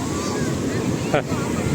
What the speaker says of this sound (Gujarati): આવા મોજા મેં ક્યાંય નથી જોયા. એક નંબર દરિયાના મોજા છે.